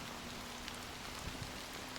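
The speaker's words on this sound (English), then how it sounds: "how long has this rain been going on for?" Steady rain falling in Honkai: Star Rail, a soft continuous hiss of drops with a few brief louder patters, an even wash with no voices over it.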